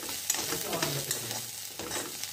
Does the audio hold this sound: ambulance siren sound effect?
no